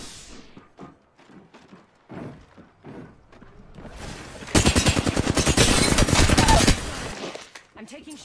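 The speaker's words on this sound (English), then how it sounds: "I'm taking shots." Rapid automatic gunfire from a shooter video game bursts loudly for about two seconds, following a stretch of excited talking and preceding a short tail of further speech.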